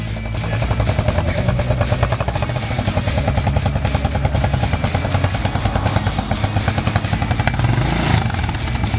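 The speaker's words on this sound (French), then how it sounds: "remettre un filet de gaz avec l'embrayage. La moto se redresse." A motorcycle moves slowly on the clutch with a little throttle, its engine putting out a close, rapid, even pulsing beat with some clatter throughout.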